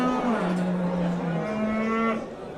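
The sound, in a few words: cattle mooing at livestock market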